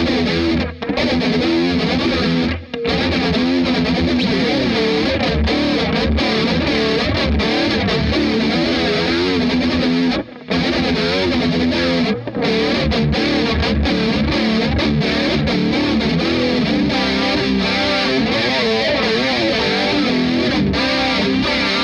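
An electric guitar played through a Marshall MG100 HDFX amp with chorus and distortion: a dense, shimmering, wavering tone sustained loudly throughout, with a few brief breaks between strums.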